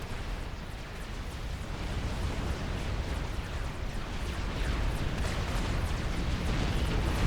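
Naval destroyers shell a main base in Supreme Commander: Forged Alliance, a steady roar of overlapping explosions and artillery booms that rumbles continuously and builds slightly louder toward the end.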